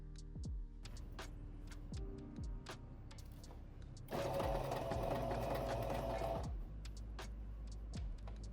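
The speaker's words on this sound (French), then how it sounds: "je suis venue faire une surpiqûre à 5 cm de mon encolure" A domestic sewing machine topstitches near a garment neckline, a faint rapid whirring burst of about two seconds amid quieter clicks and handling taps, with no talking.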